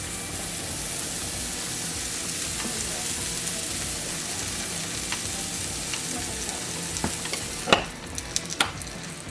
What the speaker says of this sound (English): So you're stirring up your strawberries again.